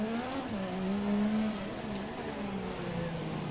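A McLaren MP4/4 Formula 1 car in the F1 2017 video game howls at high revs, its engine pitch sweeping up and down through gear changes in a short, fairly close burst.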